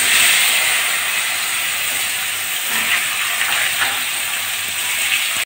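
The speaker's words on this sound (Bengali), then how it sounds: "এবার আলুগুলো দিয়ে দিচ্ছি।" Potatoes rubbed with turmeric and salt, added to hot oil with bay leaf in a wok, give off a loud, steady hiss and sizzle that fades slightly and then holds.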